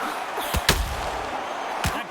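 Punches landing in the boxing video game Prize Fights, Cecilia Braekhus against Natasha Jonas: three short, sharp thuds in quick succession, the middle one loudest, over a steady background hum.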